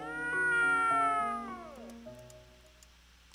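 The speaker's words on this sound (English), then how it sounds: "Oh, there's a cat." Several drawn-out meows from a cat in the video game Gaokao Love 100 Days, loud and close, with pitch sliding downward over a few seconds before fading into quiet.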